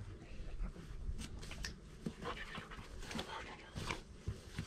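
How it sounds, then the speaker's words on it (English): A dog pants with rapid, steady breaths close by, with soft shuffling and rustling noises, during a road trip across the Argentine Pampa along Ruta 3. "another dog."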